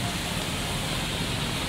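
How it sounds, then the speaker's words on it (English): Rain falls outdoors in a city at night as a steady, dense hiss that fills the whole brief span without letting up. "All right, so it's still raining"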